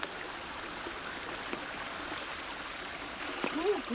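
Soft, steady rush of a stream flowing through a summer forest valley in the mountains of Hongcheon, Gangwon Province, faint and continuous with a brief rise near the end.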